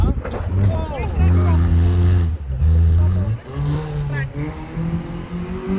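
A 4x4 Maruti Baleno rally car on a course gives a loud, rising and falling engine note with several rev climbs and gear changes, and a voice talks over it.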